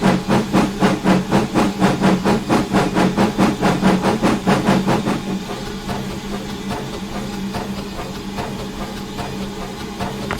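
A steam locomotive from the Steam Sound Supreme set in Train Simulator 2020 chuffs loudly in a fast, regular exhaust beat, then eases into a continuous hiss and rumble as the beats stop.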